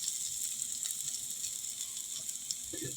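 Neem leaves frying with eggplant in a wok, a steady soft sizzle with faint crackling throughout, fairly quiet and with no talking.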